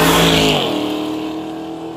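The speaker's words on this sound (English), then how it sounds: "the Mustang is making a single pass" A Ford Mustang drag car making a single pass at a drag-and-drive event, its engine roaring loudly up close and then dropping in pitch as it moves away.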